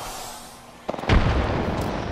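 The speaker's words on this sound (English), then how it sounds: "Throwing grenade." A thrown grenade goes off in a video game, a sudden loud blast with a short sharp crack leading into a booming rumble that lingers for about a second.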